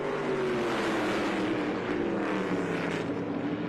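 ARCA Menards Series race cars roaring into turn 1 on a restart, a loud dense engine drone with falling pitch as the pack passes, continuous and close with no talking.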